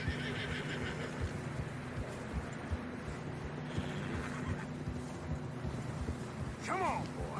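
Horses in the video game Red Dead Redemption 2 snort and whinny over a steady wash of wind and hoofbeats on fresh snow, with a brief higher whinny near the end.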